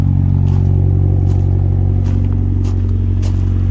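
Turbocharged Honda car engine idling steadily after a cold start, a close, loud low rumble with a constant even pulse and light mechanical clatter throughout, with no talking.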